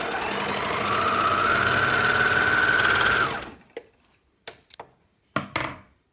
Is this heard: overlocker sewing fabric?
yes